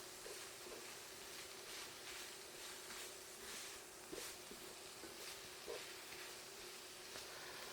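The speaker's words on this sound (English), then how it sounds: "I'm gonna keep cooking this until everything's nice and browned" Onions, a carrot and ground meat frying in a pan for a macaroni casserole, with a faint, steady low sizzle and a few soft stirring ticks, no one talking.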